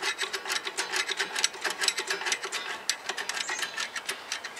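A rear brake adjuster on a 2011 Toyota Highlander is turned by hand, giving a quick run of close, faint ratcheting clicks in an uneven rhythm, alone without speech.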